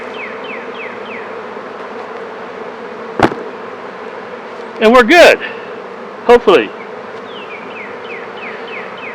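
Honeybees buzz around an open beehive during an inspection, a close steady drone with individual bees whizzing past, broken by a few sharp knocks and a short stretch of talk.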